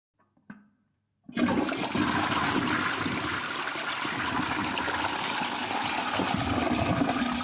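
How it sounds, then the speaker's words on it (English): A household toilet flushes loudly and close, a sudden gush of rushing water that churns steadily for several seconds after a brief click and faint knock. "This is the real flush."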